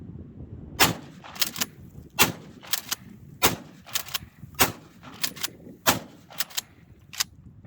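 A budget shotgun firing slugs into the dirt outdoors, about a dozen sharp reports at irregular intervals, some in quick pairs, moderately loud and heard alone against faint background noise.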